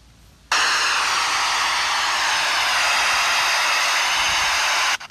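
Steady, loud broadband rush of wind outdoors at a veterans cemetery in Rhode Island, starting abruptly and holding constant for about four and a half seconds before cutting off, with no voices.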